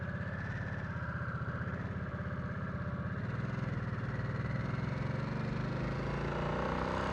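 A close, steady 2022 Harley-Davidson Nightster motorcycle engine rumbles continuously with no speech, its drone building slightly louder as it rides on.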